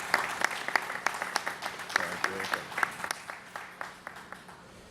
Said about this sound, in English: Let's stop and applaud a little bit